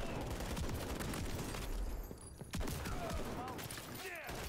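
Dense, rapid gunfire from a Call of Duty: Modern Warfare 3 firefight, loud and continuous bursts with a brief lull midway and faint voices in the mix.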